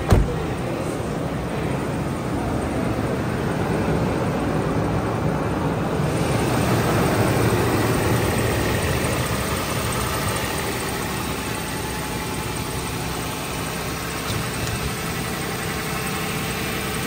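Cold engine of a car idling steadily after a start, a continuous mid-pitched hum that swells slightly a few seconds in and then holds even, close to the microphone with no talk.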